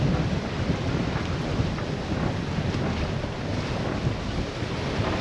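Strong wind buffeting a microphone aboard a small sailboat sailed solo on Chesapeake Bay, a dense, steady roar with surging gusts and water wash, no voices.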